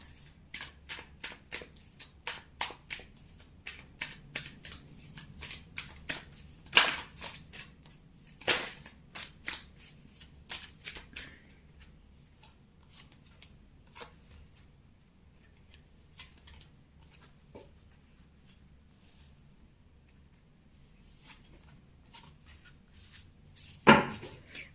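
Tarot cards being shuffled and drawn by hand, a string of crisp close riffles and flicks in quick bursts early on, thinning to sparse soft taps and slides, with one sharp snap near the end.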